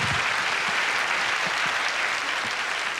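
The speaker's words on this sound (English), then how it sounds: "Give her another round of applause." A comedy club crowd gives a sustained round of applause, dense and even from start to finish, heard alone without talk.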